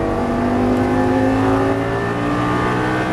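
Lamborghini Gallardo engine revving hard under acceleration on a track, a loud, steady close-up roar with rising harmonic tones for about three seconds and no talk over it.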